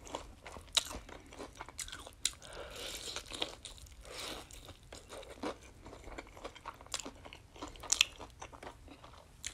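Crunchy Popeyes fried chicken and spicy noodles being eaten up close in a late-night mukbang, with repeated crisp bites, crackly chewing and occasional slurps and rustles at an irregular pace, and no talking.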